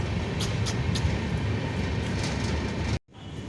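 Inside a moving passenger train, a loud steady rumble and rattle of wheels and carriage fills the space, with a few faint squeaks on top before the noise drops away abruptly near the end.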